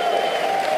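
A Crucible crowd at the World Snooker Championship applauds a century break of 108 with steady, dense clapping throughout a short burst, with a voice heard over it.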